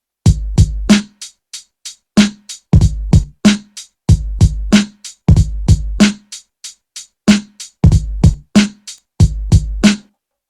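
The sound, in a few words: programmed drum pattern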